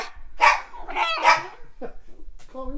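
A dog makes loud, close vocalizations in three main bursts, barking and whining in a way that resembles speech, followed by a few shorter yips.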